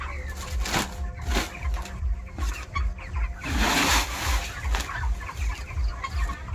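Chickens at a village poultry farm cluck continuously during feeding, a dense, close flock chorus of overlapping clucks and squawks with a steady low background rumble.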